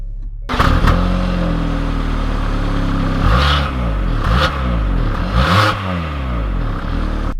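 A 2020 Hyundai Santa Fe Limited engine starts up close and loud, then revs and pulls away through several rising, falling surges of engine tone, with no talk.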